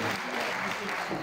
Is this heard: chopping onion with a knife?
no